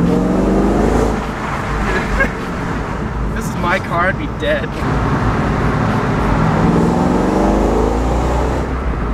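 A supercharged Ford Mustang GT500 with a stick shift accelerates hard, its engine roar and whine rising steadily inside the cabin beneath near-constant excited talk from the occupants.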